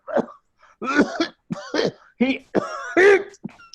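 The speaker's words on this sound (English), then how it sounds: "the coughing becomes increasingly violent" A run of harsh, throaty coughs in quick bursts, growing rougher and more forceful, close by with brief gaps between fits.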